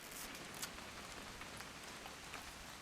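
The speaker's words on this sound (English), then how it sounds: "It's gonna rain the whole weekend," Steady rain falls in the video game What Remains of Edith Finch, a soft continuous patter of drops on surfaces, even and fairly quiet throughout with no voices.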